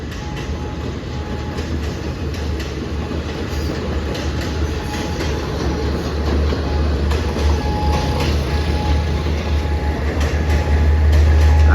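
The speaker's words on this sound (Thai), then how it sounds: "ก็จะสวนกับรถด่วนพิเศษนะครับ สามสิบแปดและสี่สิบหกนะฮะ" A Thai special express train rumbles past a railway crossing on Si Ayutthaya Road in Bangkok. The loud, continuous rolling roar carries rhythmic wheel clatter and builds steadily in loudness, with no voices.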